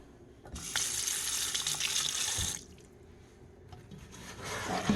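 A tap runs in a loud, steady rush for a couple of seconds, then cuts to a faint trickle before swelling again near the end.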